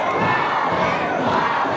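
A wrestling crowd at a no-disqualification match in Denham Springs roars, cheers and yells in a continuous loud wash, with shrill children's voices mixed into the din.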